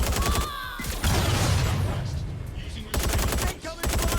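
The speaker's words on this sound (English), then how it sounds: "Incoming fire!" Bursts of automatic gunfire in Watch Dogs Legion open and close a short stretch, with loud rapid rattling separated by a quieter gap of rumbling and thuds.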